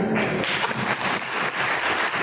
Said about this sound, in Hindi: तो आज भैया तालियां जरूर बजा देना